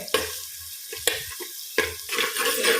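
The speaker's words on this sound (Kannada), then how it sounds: "ಈರುಳ್ಳಿ ಸ್ವಲ್ಪ ಫ್ರೈ ಆಗಲಿ ಆಗ ಒಳ್ಳೆ" Onions sizzle and fry in a pan while a utensil stirs and scrapes them in repeated bursts, close and fairly loud, with no talking.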